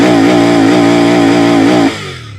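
A Royal Enfield Bear 650 motorcycle idles in neutral while its engine revs hard into the 7,000 RPM limiter, a loud close buzzing roar that pulses slightly as the limiter cuts in, then drops away sharply.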